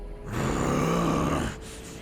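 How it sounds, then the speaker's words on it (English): A man lets out a long, strained growling grunt, loud and close, rising then trailing off into heavy breathing, while driving at full speed. "panting like Bro! and making a growling noise while driving at full speed."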